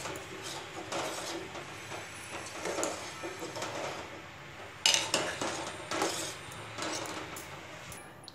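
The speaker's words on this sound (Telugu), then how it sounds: "బాగా కలపాలి." A spoon stirring tamarind juice into sweet potato sambar in a pot, with faint scraping and light clinks against the pot over a low steady background.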